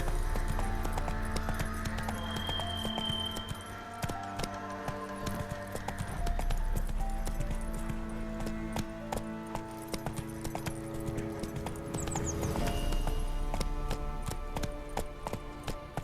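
Roach the horse's hooves clip-clop steadily in The Witcher 3 Wild Hunt, a continuous close rhythm set against game music and ambience.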